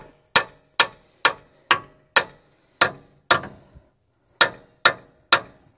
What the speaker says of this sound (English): Now I'm gonna grab my hammer here really quick and hit this a little bit.